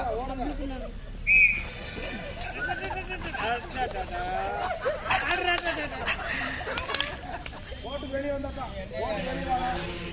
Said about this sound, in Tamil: விசில் அடிக்காதீங்க